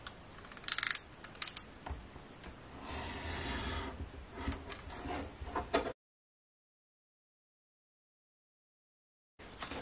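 A paper tag is cut to size in several close, crisp snips and rasping cuts lasting a few seconds, followed by silence.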